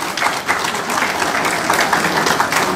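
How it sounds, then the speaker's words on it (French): Steady audience applause at an evening gathering opened by the Consul of Benin in Paris, continuous dense clapping from a crowd filling the room. "Oui, vous pouvez l'applaudir."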